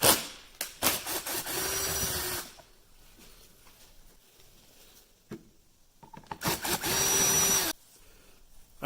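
A power driver whirs in two separate bursts of about two seconds each while backing Torx screws out of the cowl on a 2004 Dodge Durango, with quiet handling noises between the runs.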